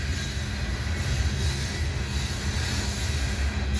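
A train rolls past at close range near Abbeville, a loud continuous rumble and roar of railcars with a faint high wheel squeal running steadily throughout.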